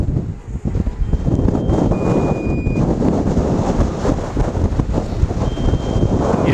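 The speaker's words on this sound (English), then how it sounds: "Now the winds are definitely picking up" Strong wind buffets a drone controller's microphone outdoors near the water, a constant loud rumbling roar with gusty surges and no speech.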